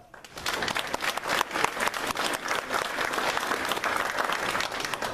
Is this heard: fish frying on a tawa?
no